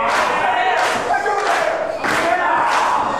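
Loud, continuous roar of a crowd at a PWF professional wrestling event, swelling in waves of cheering and shouting as fans are rallied behind a wrestler, with a few dull thuds beneath.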